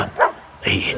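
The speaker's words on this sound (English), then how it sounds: "He barks loud so they get their attention" Samson, a Labrador service dog trained to bark loudly for attention, lets out a short bark followed by a second longer yelping bark, close and fairly loud.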